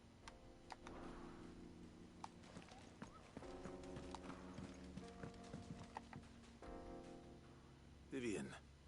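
Horse hooves clip-clop steadily in Final Fantasy 16 over layered game music, moderately close, with a brief louder burst near the end.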